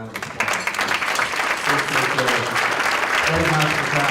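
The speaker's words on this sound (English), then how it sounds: "Let's give them a round of applause." A meeting audience of the Healthcare Task Force in Rome, Georgia applauds; steady, dense clapping fills the room throughout while a voice talks over the final second.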